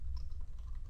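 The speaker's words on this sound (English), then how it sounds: "So I'm going to type list" Computer keyboard typing at close range, a short quiet run of soft key presses over a steady low hum, with no voices.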